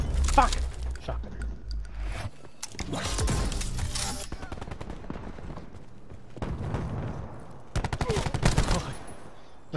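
Shotgun blasts in the first-person shooter Call of Duty: Black Ops 4, several loud, close booming bursts spaced irregularly across the stretch amid busy game noise, with a player talking in between.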